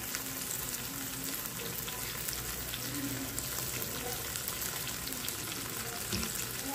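Shrimp and alugbati greens cooking together in a pot, giving a continuous dense bubbling sizzle at a steady level with no voices.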